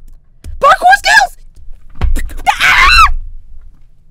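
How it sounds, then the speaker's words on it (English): A loud, shrill scream of joy during Minecraft parkour, two close bursts of high-pitched screaming, the second longer and more strained, each trailing into breathy voice. "That was a scream of joy, by the way"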